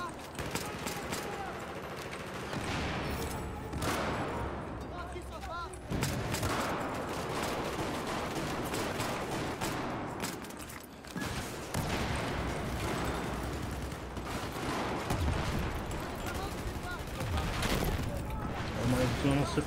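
Desert Eagle pistol gunfire in a multiplayer shooter video game cracks out in a dense, continuous barrage of close, loud shots layered over ongoing combat noise, with no pauses.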